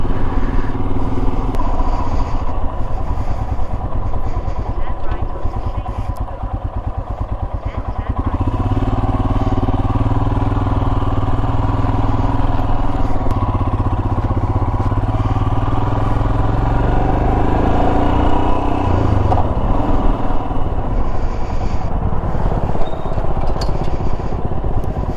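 A Royal Enfield Himalayan motorcycle rides through London traffic on a very hot day, its engine drone steady and close throughout, with a brief dip in the middle as the revs change.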